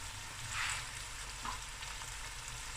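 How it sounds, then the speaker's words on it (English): Bell peppers go into a pan with prawns and fry with a steady close sizzle. A brief stirring scrape cuts in early and a faint clink follows, with nobody talking. "Now I'm going to add my peppers."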